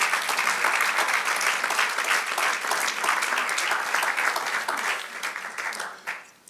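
A church congregation claps steadily for several seconds, dense and sustained, then tapers off near the end.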